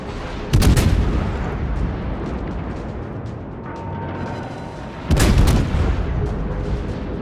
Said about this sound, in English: the Yamato is shooting me.